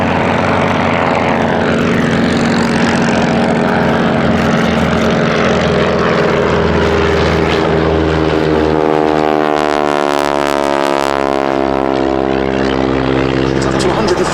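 Ryan ST Sport Trainer, a tandem two-seat propeller monoplane with a Menasco engine, flying at an airshow; a steady engine and propeller drone runs throughout with a rising, sweeping pitch as it passes, with people talking underneath.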